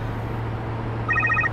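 A telephone rings late at night, one short electronic trill over a steady low hum in a quiet room, fairly faint and with no voices.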